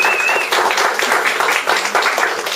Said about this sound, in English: giving a round of applause to Greg and Sharon for opening their house t